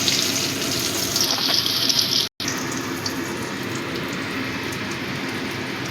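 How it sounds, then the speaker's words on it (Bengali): Eggplant pieces frying in hot oil for a fish curry dish, a steady close crackling sizzle with brief popping bursts, interrupted by a momentary dropout before the frying hiss resumes evenly; no speech. "বেগুনটা একটু লাল করে ভেজে নেব।"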